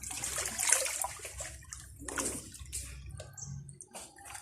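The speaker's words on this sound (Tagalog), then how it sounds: "Masarap maligo sa preskong tubig." Fresh water splashes and pours as someone bathes outdoors from a tub at a water-drawing spot, with irregular close sloshes and trickles that come in uneven bursts.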